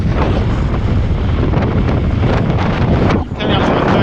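Strong wind buffets the microphone on a flat, hot gravel race course, a loud continuous roar with gusty surges and a short lull near the end.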